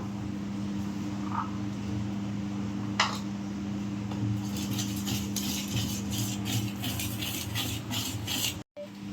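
Dry fruits being stirred into fruit cake batter in a bowl, a soft steady scraping and light clinking of utensil against the bowl under a constant low hum, with a few sharper clicks near the end.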